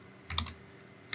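Typing on a computer keyboard: a quick, close cluster of three or four soft keystrokes, a short pause, then one more key press.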